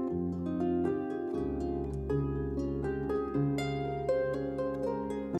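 Melodic lead line played over a backing music track, a sustained flowing tune above steady bass and chords, moderately quiet and unbroken with no talking.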